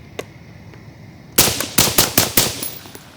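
Springfield Hellion bullpup rifle with an OSS suppressor set to normal mode, firing a quick string of about six sharp shots in rapid succession after a quiet pause, loud and close.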